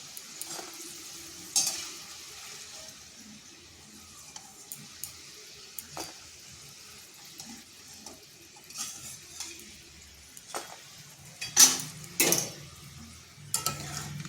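Fried palm-fruit taal mohan sweets are stirred in hot sugar syrup, giving sparse, faint scraping and clinking strokes with quiet gaps between, some slightly louder toward the end, and no talking.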